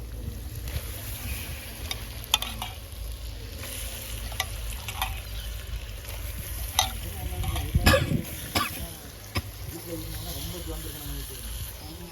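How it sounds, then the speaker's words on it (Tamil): Fresh squid is tipped into sizzling masala and stirred, a continuous close frying crackle with scraping spatula strokes and a louder burst of sizzle and clatter midway, with a voice talking faintly in the background. "இதை அப்படியே அள்ளி போட்டுக்கிறோம் பாருங்க ஃப்ரெஷ் கனவா"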